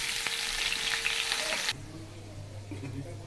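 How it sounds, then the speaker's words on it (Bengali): Cauliflower fries in hot oil with a dense, bright sizzle for over a second and a half, then the hiss drops abruptly to a quieter, lower bubbling with a faint hum beneath. "তো আমি ফুলকপিটা লাল করে একটু মিনিট ভেজে নেব।"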